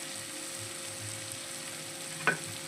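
An eggplant biryani mixture with coriander, mint, garam masala and lemon juice sizzles softly in a pot, a low steady frying hiss with one short clink of stirring near the end.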